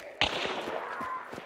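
Pistol shots ring out in a team shooter video game: one sharp crack, then a quick string of lighter pops through the rest of the moment, close and loud.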